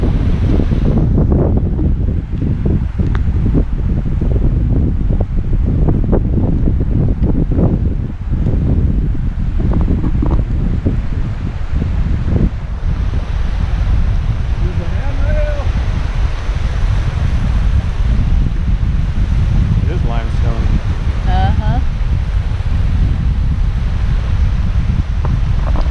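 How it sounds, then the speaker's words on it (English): Cold wind gusts steadily across a beach, roaring loud and continuous into the microphone alongside the rush of surf, with no talking throughout. "Man, that wind is cold."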